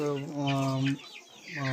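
A few chickens cluck close by in short, throaty bursts with a brief pause between calls, in a farmyard setting.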